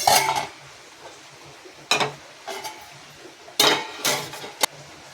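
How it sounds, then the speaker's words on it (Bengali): A kadai wok is set down on a gas stove among pots and pans, giving several separate metallic clanks and clatters in uneven bursts with quiet pauses between, close by and without speech. "কড়াইটা বসিয়ে দেবো।"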